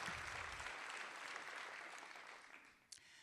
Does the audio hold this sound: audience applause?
yes